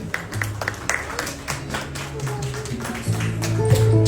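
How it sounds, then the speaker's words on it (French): Audience applause at a graduation ceremony in a hall, a steady patter of clapping that swells slightly toward the end, with a sustained low musical tone running beneath it. "Je vous demande d'applaudir très fort Gabrielle Esterline Désir."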